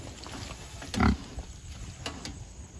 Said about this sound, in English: you can hear that first pig over there trying to eat now